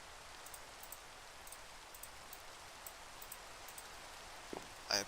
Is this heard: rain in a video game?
yes